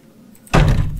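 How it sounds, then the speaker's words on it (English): A sudden loud thud on a door in the horror game Lurk in the Dark breaks a quiet, low ambient drone and is followed by a sustained rumbling tail. "But did someone just knock on the door?"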